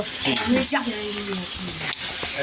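Meat frying in a pan hisses loudly as water is poured in. Steam crackles over clinking utensils and stirring, with faint voices in the background.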